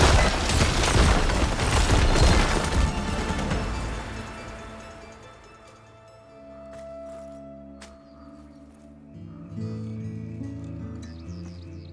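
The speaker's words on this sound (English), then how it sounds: "Detonated!" A heavy explosion detonates in the action video game Horizon, a loud rumbling blast that dominates the first several seconds and then fades into quieter ambient game sounds and music.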